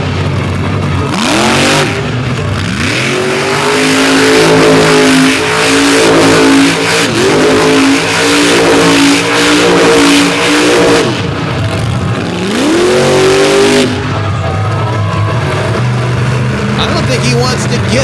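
A truck's engine revs hard and repeatedly at a motorsport show, loud rising and falling roars with rough mechanical strain, under an announcer's commentary.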